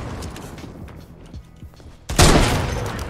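A single loud sniper rifle shot in the Fortnite video game, a sudden sharp blast that cuts in after quieter gameplay noise and trails off in a wide, sustained roar.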